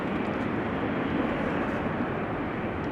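A KLM Boeing 737-800 jet at Amsterdam Schiphol Airport, a steady broad engine roar with no gaps, moderately loud and unchanging throughout.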